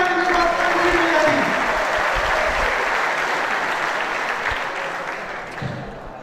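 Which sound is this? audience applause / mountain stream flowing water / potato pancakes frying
audience applause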